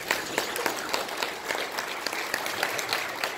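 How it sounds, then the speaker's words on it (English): A room full of people at a fatherhood conference applauding a judge steadily, dense clapping that continues evenly throughout with no voices on top. "Please, your applause for Judge Denise Rennie"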